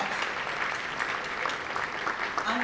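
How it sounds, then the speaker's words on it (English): An audience at a community college hall of fame event breaks into steady, dense applause, a continuous roar of many hands with a few louder claps poking through, with faint voices underneath. "Let's give them another big round of applause"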